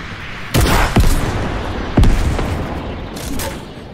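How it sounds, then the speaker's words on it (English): Several booming missile launches and blasts in a video game, three sharp hits spaced about a second apart then a lingering rumble, with a faint voice in the background. "I'm sending some missiles."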